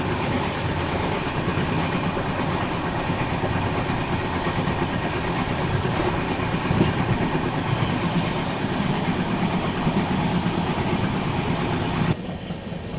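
Ahmedabad Gorakhpur Express rolling along the rails, a steady loud rumble with a faint rhythmic clatter of wheels from inside the moving train, continuous without a pause, no voices.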